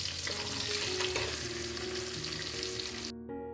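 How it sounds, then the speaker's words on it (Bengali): Fish, catla and pomfret, fries in a pan with a loud, continuous close sizzle and crackle that stops abruptly near the end. "মাছ ভাজা বসিয়ে দিয়েছি"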